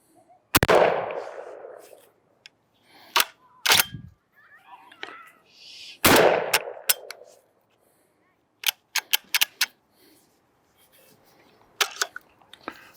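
Shotgun blasts from a budget-priced shotgun, two loud sharp reports with long decaying echoes at about 0.6 and 6 seconds, followed by scattered clicks and clacks of the action being worked, with brief talk between.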